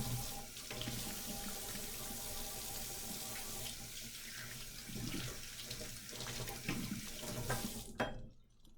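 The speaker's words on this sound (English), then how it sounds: "And then I'm always going to wash my hands after I crack the eggs." A kitchen tap runs steadily at a sink while hands are washed after cracking eggs, a close, continuous splashing flow that cuts off abruptly near the end, with no talking.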